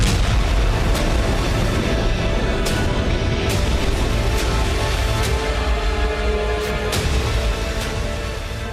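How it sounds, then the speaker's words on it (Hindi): A loud, sustained roaring rumble of blasts and booms fills the air, with scattered sharper cracks over a dense low boom, as a Russian Black Sea Fleet warship explodes after a sea drone attack. "जबरदस्त धमाका होता है"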